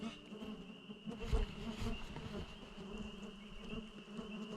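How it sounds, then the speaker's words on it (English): A thick swarm of insects buzzing at a lakeside campsite, steady close droning and humming with individual bugs flying past, fairly faint and uninterrupted, with no talk. "That's about as thick of bugs I've ever seen."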